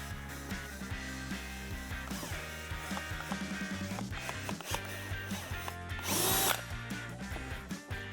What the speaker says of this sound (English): if you drill through, you know you don't drill into a spot in the fender